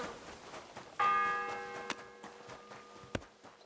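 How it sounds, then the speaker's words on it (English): A church bell tolls once with a long ringing decay in Kingdom Come: Deliverance II, followed by faint ticking and a couple of sharp knocks in a quiet scene. "The sixth bell. Half the time is up."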